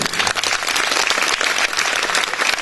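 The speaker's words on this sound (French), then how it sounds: "on peut l'applaudir, oui, on peut l'applaudir" Dense applause from an audience at the 2019 Gala des Reines show, steady and loud throughout with no voices over it.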